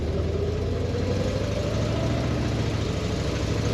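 A 1973 Chevy Nova engine runs steadily while driving down a dead-end road, a close, continuous mid-pitched drone with a faint rising whine, heard alone without voices.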